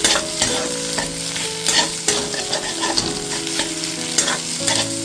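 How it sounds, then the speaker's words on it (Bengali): An egg fries in a pan with a pinch of salt, crackling and sizzling steadily and loudly, broken by repeated clacks and scrapes of a spatula stirring it. "একটু মতো নুন দিয়ে দিচ্ছি দিয়ে ভালোভাবে এটা ফ্রাই করে নিতে হবে"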